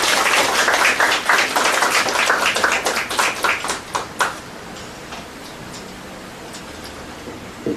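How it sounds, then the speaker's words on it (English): An audience at a lecture on seventeenth-century Philippine history claps in a brief round of applause that thins into scattered claps after about four seconds, then fades to quiet room noise. "A warm round of applause."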